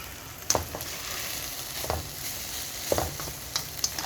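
A spoon clinks and scrapes as a mixture of equal parts fish sauce and sugar is stirred, with a few distinct taps over a faint steady hiss, close and fairly quiet.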